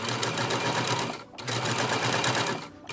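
Loud, close sewing machine stitching a curved face mask seam, a dense steady hum with rapid needle rhythm, broken by two brief pauses where the stitching stops and restarts.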